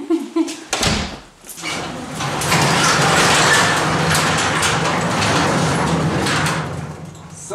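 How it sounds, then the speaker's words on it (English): A door is opened during a Las Vegas bike week poker run: a sharp clattering rattle, then a loud, steady rumble like an idling engine that continues to the end. "The boss doesn't know how to open the door."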